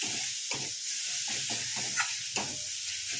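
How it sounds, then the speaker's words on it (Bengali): Garlic sautéing in a pan with a little sugar, a soft steady hiss of frying beneath several dull scraping stirs of a spatula, close and fairly quiet. "দিয়ে এটাকে ভালো করে কষাবো, যাতে রসুনের কাঁচা গন্ধটা চলে যায়।"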